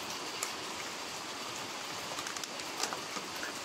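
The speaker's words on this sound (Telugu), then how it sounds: "సరే వాన ఎలా పడుతుందో చూడండి." Steady rain pours down, a dense hiss of drops on surfaces with a few louder splashes, continuous throughout and no voices.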